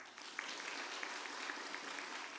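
Church congregation applauding during a spring revival service, steady dense clapping from a crowd that holds evenly throughout, fairly loud and close with no voices over it.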